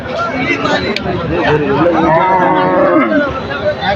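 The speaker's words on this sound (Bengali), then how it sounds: "আজকে হাটে কিন্তু অনেক প্রচুর গরু আইছে" Cattle at a busy Qurbani livestock market give a long, loud moo amid crowd chatter, and people talk close by throughout.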